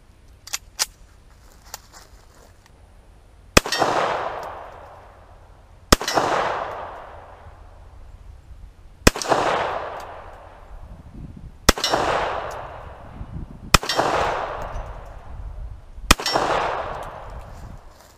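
Six handgun shots fired one by one at a shooting range, each a sharp loud crack with a decaying ring, spaced a few seconds apart after a few faint clicks.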